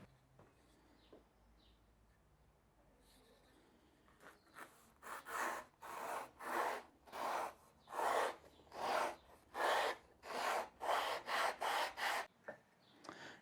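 Wood being sanded with a grit-faced sanding stick on a small dice box, a rhythmic series of about a dozen close, rasping back-and-forth strokes after a few quiet seconds.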